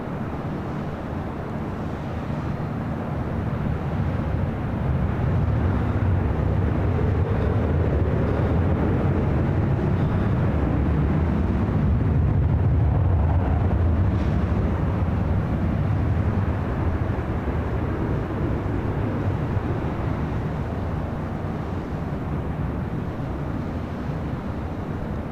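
An airliner takes off from runway 24 left at LAX, a loud, continuous broadband jet roar that swells toward the middle and then stays steady and close without easing off.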